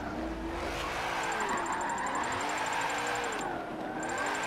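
A supercharged 3.6 liter V6 car engine revs and drifts, its pitch rising and falling over the steady engine roar, with a thin supercharger whine above it.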